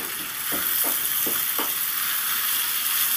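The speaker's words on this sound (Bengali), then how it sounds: "ভাজা পেঁয়াজটা দিয়ে কুঁদরির সাথে সুন্দর করে নেড়ে চেড়ে একটু ভেজে নেব।" Ivy gourd sizzles in a pan with fried onions, with a steady close frying hiss and four quick stirring scrapes near the start.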